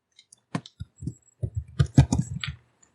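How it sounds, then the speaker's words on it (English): Scattered clicks and taps from someone typing on a computer keyboard during an online group call, coming in irregular short bursts that bunch up toward the middle and fade out. "I think it's typing."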